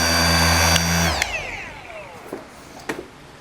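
A car polishing machine buffs paint with an all-in-one polish, a loud steady whir that spins down and stops about a second in, followed by a few quiet clicks and handling noises.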